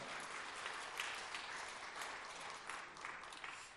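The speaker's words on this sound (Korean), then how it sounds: "박수로 한번 우리 한번 격려 한번 부탁할까요?" A church congregation applauds after a saxophone hymn at a worship service. The clapping is dense and sustained, fairly faint, and runs for several seconds.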